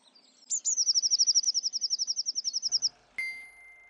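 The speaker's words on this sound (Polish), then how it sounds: "zobaczyć śpiewające ptaki, żerujące na trawnikach, budujące gniazda" Birdsong in spring: one clear, fast run of repeated high chirps lasting over two seconds, close and loud, then a short sharp higher note at the end.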